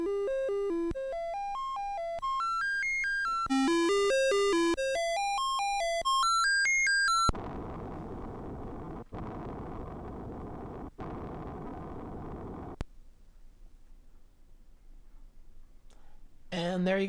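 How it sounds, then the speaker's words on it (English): A Commodore 64 sound test produces bright chiptune tones stepping up and down in rapid arpeggio runs for several seconds, then gives way to a harsh hiss of noise with sharp clicks and a quieter tail. "I'll just splice in what the sound test sounds like."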